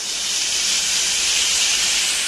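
Ghevar batter poured into hot oil and ghee throws up a loud, even hiss that holds steady without a break, close up and with no talking.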